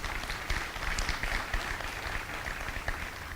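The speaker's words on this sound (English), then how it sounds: "If we can give Mel another round of applause, please." Audience applause at a ribbon cutting for a company headquarters, a steady crowd of clapping hands running throughout at moderate level with no speech over it.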